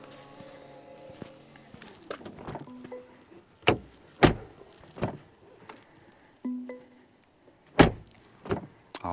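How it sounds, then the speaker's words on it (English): A heavy soft-close door on a 2024 Mercedes GLE 53 AMG Coupe swings shut several times with solid, muffled thuds, each closing soft and damped rather than slamming, close by with no talking. "pretty heavy door actually, and it has a soft closed door"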